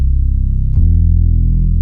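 Growling synth bass from the R&B Madness kit, a sustained low tone that shifts pitch partway through with a brief click, steady and loud with no talking.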